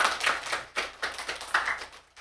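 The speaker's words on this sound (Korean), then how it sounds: "박수 한번 크게 쳐줘요" A church congregation applauding during a Sunday service, a dense crowd of hand claps swelling and easing in waves over a couple of seconds, moderately distant with no talking.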